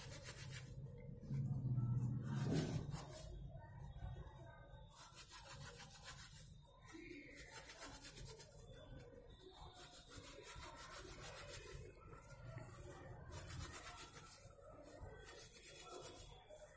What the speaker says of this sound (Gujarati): તો આ જે લિક્વિડ છે તેને આપણે આવી રીતે ઘસી લઈએ